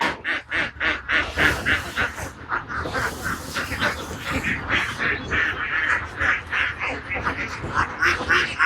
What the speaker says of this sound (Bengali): অনেক সুন্দর সেই হাঁসের খামারটি।